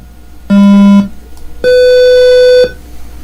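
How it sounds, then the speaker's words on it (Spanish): A gas leak detector at critical alarm level sounds two loud electronic beeps close by, a short lower tone followed by a longer, higher one, with quiet gaps around them. "Nos empieza a avisar que es nivel crítico, que es una emergencia, que hay fuga de gas."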